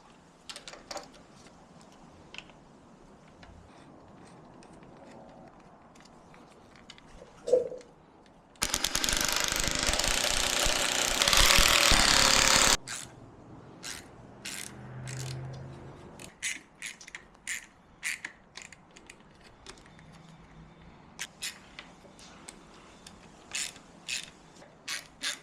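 Bolts are tightened on a Razor electric scooter build with a ratcheting wrench, giving repeated close clicking bursts, plus one long, loud stretch of continuous ratchet noise in the middle.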